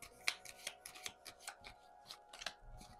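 Tarot cards shuffled and drawn by hand, a quiet run of crisp flicks and soft slaps spaced irregularly, close and faint with no talking.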